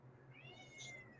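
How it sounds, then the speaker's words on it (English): A pet cat gives a single faint meow in the background indoors, a short rising and falling call of about a second. "it's my cat. She keeps meowing."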